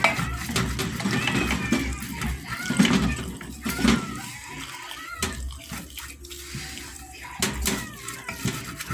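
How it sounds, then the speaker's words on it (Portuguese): A little water splashed into a pan to loosen the baked-on crust left from homemade pizza: close, uneven sloshing and trickling with sizzle-like hiss, broken by occasional light clicks and knocks. "Eu vou colocar só um pouquinho de água, um fundinho assim, pra soltar o fundinho"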